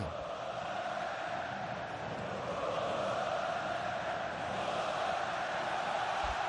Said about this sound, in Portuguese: E a torcida grita olé